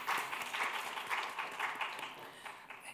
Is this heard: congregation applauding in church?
yes